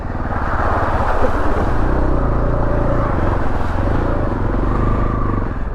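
A Beta Alp 4.0 motorcycle rides through a puddle, its engine a loud, close low rumble and drone with wind buffeting and faint splashy clatter, and no voices.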